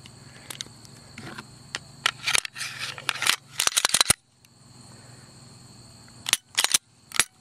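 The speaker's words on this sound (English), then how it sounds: "let's put the 4th generation barrel in 3rd and see if it'll work" Glock Gen 4 barrel being fitted into a Gen 3 pistol on a tabletop, sharp metallic clicks, slides and clacks in irregular bursts over a faint background hum, close by.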